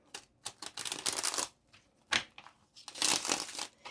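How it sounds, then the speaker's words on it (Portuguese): Tarot cards riffled and shuffled a little away from the microphone make bursts of crisp papery flutter, several uneven runs separated by brief quiet gaps, fairly soft overall. "Eu tô tentando embaralhar com mais distância do microfone, porque teve alguém que falou do barulho"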